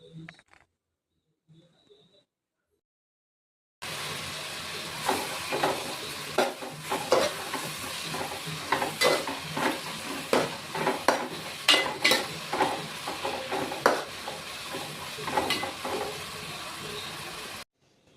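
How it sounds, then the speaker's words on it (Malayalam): Salted ingredients sautéing in a pan for a chicken curry, with steady sizzling and repeated scraping stirs of a utensil against the pan after a quiet start, close and continuous with no talk. "അപ്പോൾ നമുക്ക് ഒന്നുകൂടി നന്നായിട്ട് വഴറ്റിയെടുക്കാം"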